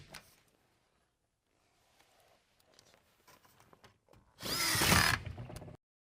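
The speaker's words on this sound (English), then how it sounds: "Once we have it in position, we'll put our screws" A power drill drives screws through steel board-and-batten siding trim: faint handling taps first, then one loud, close burst of whirring drilling that stops abruptly.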